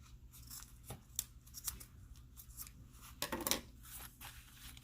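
Scissors trim excess zipper tape on a fabric key fob pouch, a few quiet sharp snips and crunches at irregular intervals over a faint background.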